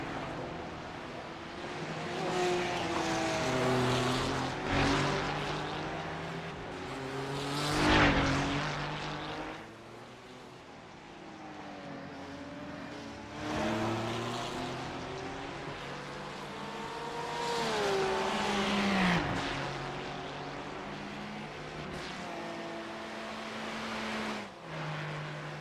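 Porsche and Ferrari race cars at the Bathurst 12 Hour race howl past one after another, engines rising and falling through gear changes, the sound swelling as they near and fading off into the distance.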